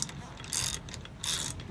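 A socket wrench ratchets in two bursts of rapid metallic clicking while wheel adapters are tightened on a Chevy truck, close and fairly loud, with quieter mechanical handling between them.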